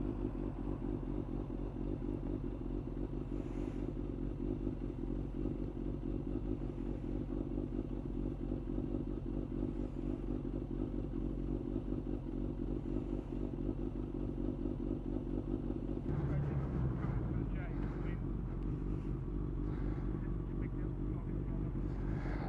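Motorcycles riding through London streets, a continuous low engine drone heard from close by, with a brief rise in rumble and clatter near the end.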